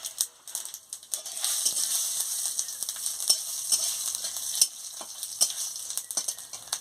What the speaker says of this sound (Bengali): 5 ফোড়ন দিয়ে দিচ্ছি